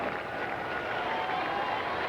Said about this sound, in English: Sensational crowd